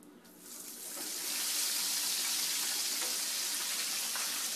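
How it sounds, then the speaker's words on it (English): Shrimp dropped into hot oil for deep frying, a batch for po' boys, sizzling as a loud, steady broadband hiss that swells within the first second and holds strong without talk. "Drop them in the oil."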